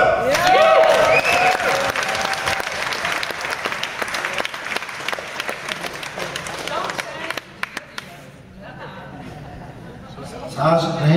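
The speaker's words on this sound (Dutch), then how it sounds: "Heel groot applaus voor ons." A large audience bursts into loud, sustained applause and cheering that gradually thins into scattered claps, then fades as a voice begins speaking.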